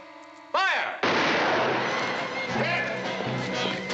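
A firing squad's rifle volley bursts out in one loud, close blast and trails into a rough, noisy rumble, with a brief shouted command just before it.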